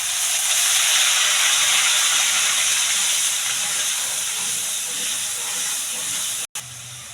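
Onion paste hits hot oil already holding a bay leaf and whole cumin, letting out a loud, steady, steam-like hiss that stays strong and constant before dropping out briefly near the end; no one speaks.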